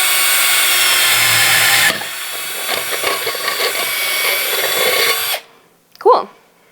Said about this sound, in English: So drilling with a 1/4 inch bit, my silicone injection sites.